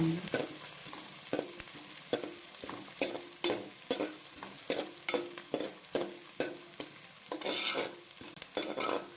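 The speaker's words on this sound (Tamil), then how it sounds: "எண்ணெயில் நல்லா வதக்கி விடுங்க" Onions sizzle steadily in hot oil while a utensil stirs and scrapes the pan in regular strokes, close and fairly loud, with no talking, while cooking chicken curry.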